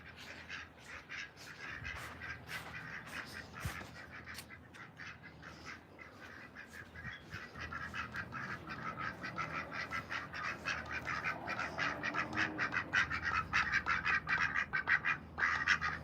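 A flock of ducks quacks in rapid, overlapping bursts outdoors at feeding time, the calls steady at first and growing louder and busier toward the end, with no talk over them.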